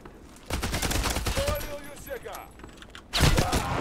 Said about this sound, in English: that Saga shotgun is lethal